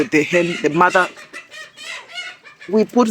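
Chickens cluck up close in a poultry pen near day-old chicks and a mother hen, a run of short bursts of clucking and squawks with brief quiet gaps between.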